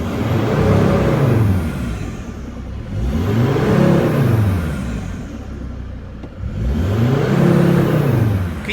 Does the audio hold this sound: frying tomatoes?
no